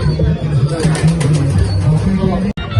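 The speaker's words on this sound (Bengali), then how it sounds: "সব কবুতর আর কবুতর" Pigeons in a mini zoo at DC Park, Chattogram, coo in a low, steady, rolling murmur that continues throughout, with faint background chatter from people nearby.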